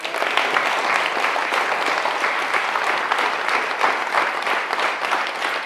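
An audience at a recruiting talk show event applauds the organizer and team, steady dense clapping from a sizable crowd sustained evenly throughout.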